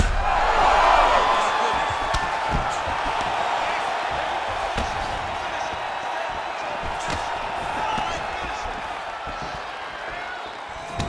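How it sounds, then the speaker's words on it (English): A UFC arena crowd roars steadily in appreciation after a grueling ground battle, a dense loud wash of cheering and noise that stays strong throughout, with scattered sharp thumps and voices mixed in. "the crowd pops in appreciation"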